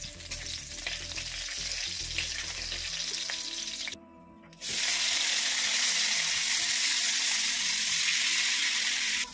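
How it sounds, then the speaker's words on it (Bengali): Vegetables sizzle and fry steadily in oil with panch phoron on a clay stove, a loud continuous hiss broken by a short quieter gap before resuming stronger. "তেল দিয়ে নিরামিষ রান্না হচ্ছে। পাঁচফোড়ন,"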